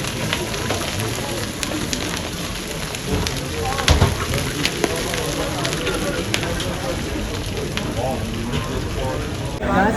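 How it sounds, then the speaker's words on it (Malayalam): Light rain patters steadily on a mountain road near Manali, with scattered crisp drops ticking nearby, a soft continuous hiss filling the background. "മഴ ചാറാൻ തുടങ്ങി."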